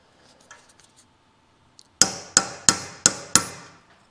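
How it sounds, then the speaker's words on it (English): A hammer strikes a thin punch to deliberately damage threads on a hydraulic fitting, five sharp, loud metallic blows in quick even succession after a quiet lead-in with a few faint clicks. "Let's purposely damage the threads so this won't never come back out, and I got a thin punch to do that with."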